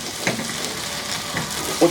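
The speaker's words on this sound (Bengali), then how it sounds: "এই পেঁয়াজ রসুনগুলো ভাজা ভাজা হয়ে যাবে" Steady oily sizzling and crackling from okra frying in a pan with onion and garlic, with a few stirring scrapes, close and fairly loud.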